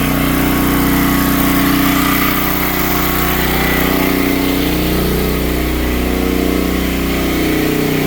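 Predator 13000 watt generator roaring under load while powering a house, a loud, close, unbroken engine drone with a steady low hum and no pauses.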